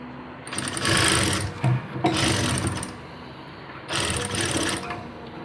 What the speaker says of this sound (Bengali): এখানে একটা কিনারে সেলাই দিয়ে নেওয়া